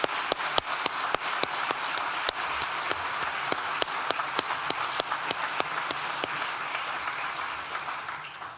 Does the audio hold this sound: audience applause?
yes